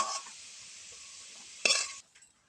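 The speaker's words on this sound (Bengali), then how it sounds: "আলুটা লাল করে ভেজে নিয়েছি" Potatoes fry in a pan with a steady, fairly quiet hiss, then a sharper burst of sizzling and stirring before the sound drops away abruptly.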